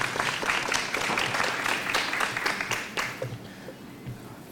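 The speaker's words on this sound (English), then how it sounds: "Can we give him another round of applause, please?" Audience applause after a speech by a state senator at a college event, sustained clapping from a crowd that slowly thins and fades toward the end, with some talk underneath.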